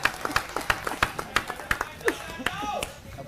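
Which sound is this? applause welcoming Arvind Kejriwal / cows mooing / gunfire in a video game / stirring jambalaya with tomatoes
applause welcoming Arvind Kejriwal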